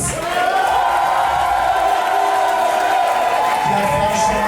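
Crowd at a drag show season finale cheering and applauding, a loud continuous roar of shouts and whoops filling the whole stretch.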